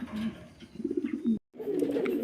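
A pigeon coos nearby in low, throaty rolling calls, broken by a brief silence before the cooing resumes, with no speech.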